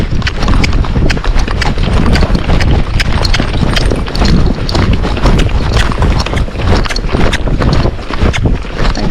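A Tennessee Walking Horse canters uphill outdoors, its hooves thudding close and loud in a quick, continuous rhythm under heavy wind buffeting on the microphone.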